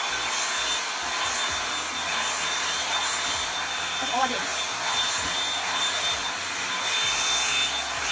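A Revlon hair dryer brush runs on its high setting with a steady, loud whooshing drone throughout, and a short spoken remark is heard briefly partway through.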